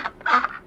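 A duck quacks over a phone call, giving a short, nasal honking call that swells and fades, heard alone and fairly close.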